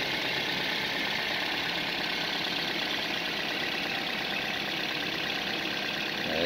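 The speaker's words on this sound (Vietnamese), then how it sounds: "Máy đang nổ anh em nhé, máy nổ rất êm." A 2009 Toyota Vios engine idling steadily and smoothly, a constant close hum with no talk over it.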